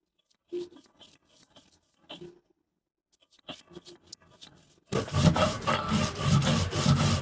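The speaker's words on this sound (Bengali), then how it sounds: "প্রথমে মরিচগুলো বেটে নেব।" Green chillies are ground on a grinding stone: sparse rubbing and scraping strokes at first, then a loud, continuous rough grinding from about five seconds on.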